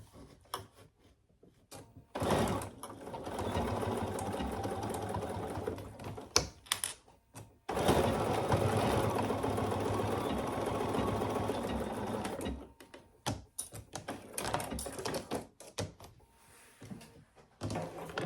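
A domestic sewing machine stitching a fabric pouch, its motor whirring in sustained runs of rapid needle chatter, separated by pauses and handling clatter, fairly close.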